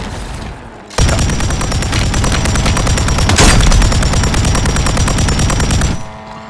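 Sustained rapid gunfire in a shooter video game, a dense, loud burst of shots lasting about five seconds with a heavier hit midway, then fading out.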